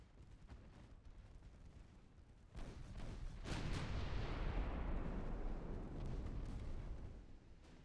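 American warship guns fire in Ultimate Admiral Dreadnoughts, one heavy booming salvo that swells into a long, loud rolling rumble after a quieter stretch of distant firing.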